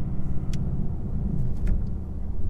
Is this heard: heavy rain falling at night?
no